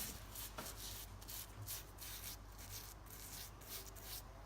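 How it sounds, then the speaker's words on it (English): A very soft copper-bristled brush scrubs the carved wood of a Jacobean chair during furniture stripping, a steady close rubbing and scraping in repeated strokes with no talk. "This is very, very soft copper, so it's not going to damage. This brush is perfect for carvings."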